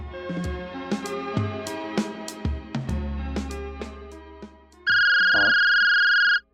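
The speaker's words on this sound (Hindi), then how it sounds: "अभिषेक को लगाता हूँ फोन।" Music ends and a single steady electronic phone ringing tone sounds for about a second and a half, loud and close.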